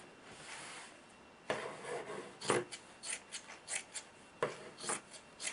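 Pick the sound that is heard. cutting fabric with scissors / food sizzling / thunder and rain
cutting fabric with scissors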